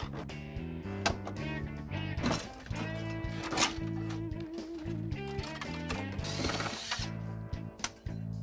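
A ratchet works screws out of an old residential electrical panel in close, repeated clicking bursts with some metallic clatter, and a voice speaks briefly.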